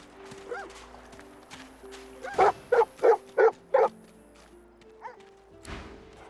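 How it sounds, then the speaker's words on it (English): A dog in the game Divinity: Original Sin 2 at Fort Joy gives a quick series of five sharp barks, loud and close, with fainter game sounds before and after. "The dog focuses at the cat at your feet, baring its teeth and growling"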